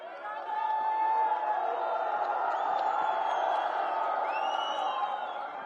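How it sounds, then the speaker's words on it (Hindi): A large crowd at a Delhi Lok Sabha election rally roars with cheering, whoops and applause in a continuous dense wash, steady and loud throughout with a few whistles rising above. "पब्लिक ने तालियों की बौछार कर दी"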